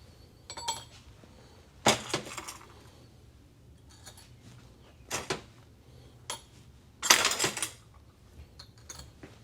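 Pieces of silver chain drop into a melting crucible, making a few scattered metallic clinks and sharp rattling bursts, moderately close, separated by quiet stretches.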